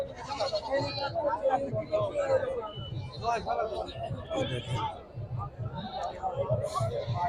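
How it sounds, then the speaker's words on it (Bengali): Goats at a busy goat market bleat repeatedly in short bursts, mixed into the murmur of a crowd and someone speaking close by. "দেখা যাবে যে অনেক ছাগল"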